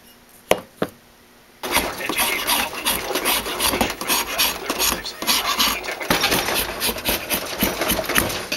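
A steel chisel end being filed or rasped clean, with a couple of sharp knocks at first, then steady loud rasping strokes that continue without pause to the end.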